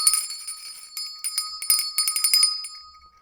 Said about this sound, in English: here is your bell.